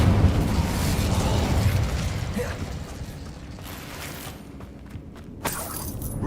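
The Incendio fire spell in Hogwarts Legacy gameplay gives a broad, roaring whoosh with crackling mechanical texture that slowly fades, then ends in a sharp burst near the end.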